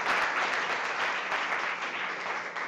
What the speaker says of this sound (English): Let's give them a big round of applause for that.